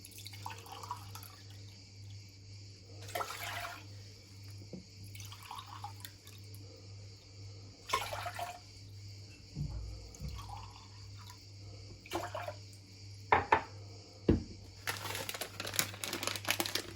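About three and a half glasses of water are poured into a cooking pot for aşure in several short splashing bursts, separated by quiet pauses with faint clinks.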